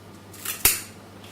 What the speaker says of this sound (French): Afin de mieux visualiser, je vais couper cette nageoire